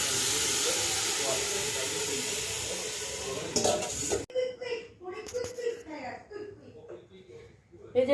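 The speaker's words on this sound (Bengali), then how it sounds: "দেখো পোলাও এখন ফুটছে" Pulao rice boils in a covered pot, giving a steady steamy hiss for about four seconds before it cuts off to voices chatting, including a child, over quieter kitchen noise.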